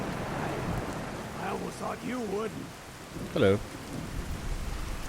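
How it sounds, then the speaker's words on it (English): A Fallout 4 thunderstorm pours steady rain with a low thunder rumble underneath, while voices talk over it in the middle and a louder burst cuts in briefly. "Wow, this storm is terrible."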